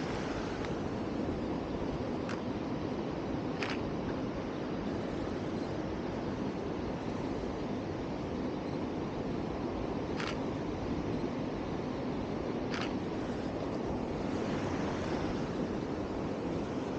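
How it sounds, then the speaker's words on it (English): Water trickling down rocks in Uramakihata canyon, Japan, a steady broadband wash with faint wind, continuous and even throughout with a few small clicks. "It's not a waterfall, but you see the water drifting down the rocks."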